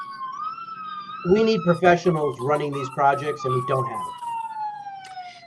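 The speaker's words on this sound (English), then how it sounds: "you can hear the sirens in the background" Police and emergency vehicle sirens wail steadily in the background, a long gliding tone running under someone speaking in the foreground.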